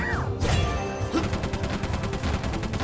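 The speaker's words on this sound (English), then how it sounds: "the shotgun's a fully automatic assault rifle" Automatic shotgun in a mobile video game ad firing as a fully automatic weapon: a long, loud, rapid stream of evenly spaced shots after a brief crash and swoosh at the start.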